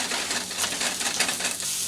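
Already-cooked breakfast food browning in a frying pan, a steady close hiss of sizzling with faint crackles, continuous and without talking.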